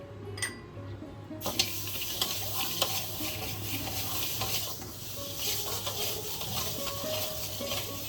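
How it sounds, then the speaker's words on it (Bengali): Moong dal dry-roasted in a dry pan for khichuri, stirred continuously: a soft, steady scraping rustle with occasional light clinks against the pan, and no voices. "এক বাটি মুগ ডাল আমি শুকনো খোলায় ড্রাই রোস্ট করে নিচ্ছি"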